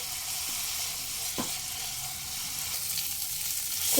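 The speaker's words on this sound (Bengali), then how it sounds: "এখানে মশলাটা খুব ভালোভাবে একটু কষিয়ে নেবো" Spice masala with coriander powder and a little water fries in a pan for a pumpkin-leaf and katla fish head dish, making a steady hissing sizzle with an occasional stirring scrape.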